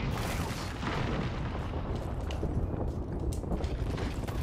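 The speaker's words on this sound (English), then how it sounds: "we've got an airstrike coming in." Incoming airstrike in a shooter game: a steady, heavy rumble of booms and blasts rolling on for several seconds, loud and dense with scattered sharper cracks, no voices over it.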